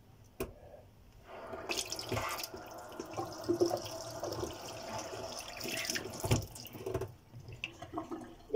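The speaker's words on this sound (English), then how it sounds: "I'm putting hot water in this." Hot water is poured over ice, making a continuous splashing, gurgling stream close by with a few bumps and clunks and no talk.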